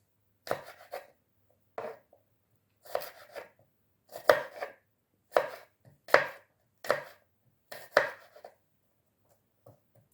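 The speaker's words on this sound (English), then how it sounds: "So we're doing our garlic cloves now. I'm not mincing it, I'm just cutting it in some strips." A knife cuts garlic cloves into strips on a board, giving about nine crisp, close chops in an uneven rhythm separated by quiet gaps, with a couple of faint taps near the end.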